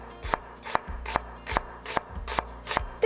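A knife slicing an onion on a cutting board in steady, even strokes, about seven crisp close-up chops spaced roughly every half second, with no talking.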